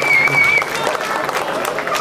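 Audience applause at a Kannada community Deepotsava celebration, steady dense clapping filling the whole stretch with crowd murmur mixed in.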